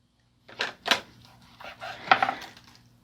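A knife cuts through a tender cooked turkey fillet, giving a few short, close scraping strokes against the board in otherwise quiet surroundings.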